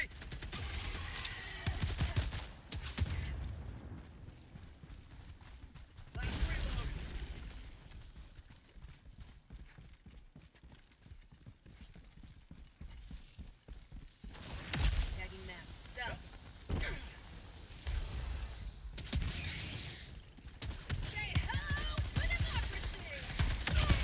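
Gunfire in the video game Helldivers, with volleys of automatic shots and cracking impacts rising and falling over a long stretch, while people talk over the shooting.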